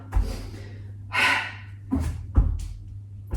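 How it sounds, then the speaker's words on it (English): Sharp, noisy exhales during a yoga HIIT workout, four or five forceful breaths through the mouth in an uneven rhythm, close to the microphone with a steady low hum underneath. "Nice noisy exhales"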